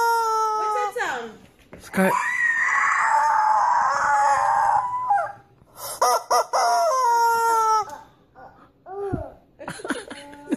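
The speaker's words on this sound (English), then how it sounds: "This is the rooster." Close, loud rooster crowing: a sustained wavering crow rises in the middle, with excited voices, a child and laughter before and after it.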